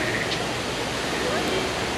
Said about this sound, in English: With these floating mountains right here with the waterfall coming down.